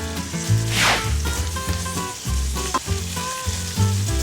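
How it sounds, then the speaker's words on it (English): Onions sizzling in a pan over medium-high heat, a steady close crackle running the whole way under soft background music, with occasional brief stirring sounds. "got the onions cooking"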